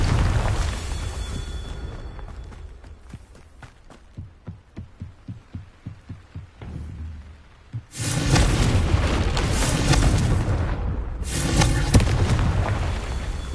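Confringo fire spells blasting in Hogwarts Legacy: a run of about a dozen short, rhythmic thuds, then two long, loud roaring bursts of explosion and crackle, with no talking.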